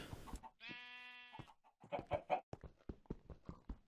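A chicken in modded Minecraft clucks in a string of short, uneven bursts following a long, drawn-out animal-like tone, all fairly close and with no voices.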